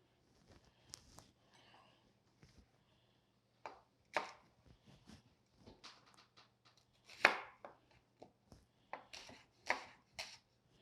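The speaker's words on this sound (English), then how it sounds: "cut it down the center like that and just cut them into big chunks" A knife chops shallots into big chunks on a cutting board, making a series of soft, irregular thuds heard close and clear with no talk.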